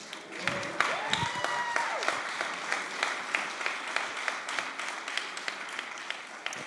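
Audience applause at an award ceremony in Berlin, a full crowd clapping steadily and close, with a brief voice at the start.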